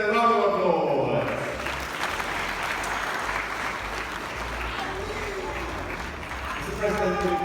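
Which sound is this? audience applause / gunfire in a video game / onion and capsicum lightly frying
audience applause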